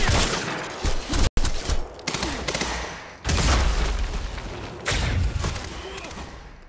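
Bursts of automatic gunfire and heavy booms in the video game Quantum Break, several loud rapid volleys separated by short gaps, with shouting voices mixed in.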